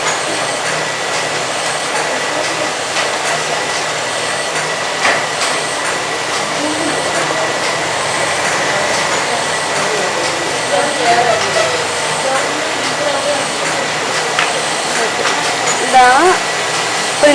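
A printing machine runs in a print shop, set up for legal-size paper, giving a steady whirring drone throughout with faint mechanical clicks and a voice talking over it.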